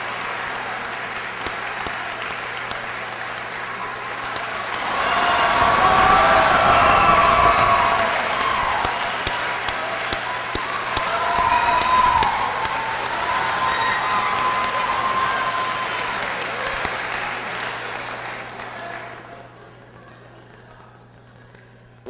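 An audience at a hall of fame induction ceremony for a Pacific athletic program applauds and cheers for a coach taking the stage, a broad wash of clapping that swells, dips briefly, then fades out near the end.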